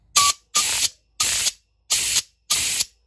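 Five short, forceful bursts of compressed air blown through the carburetor needle hole of a Stihl MS210 chainsaw, evenly spaced with brief silences between, loud and close.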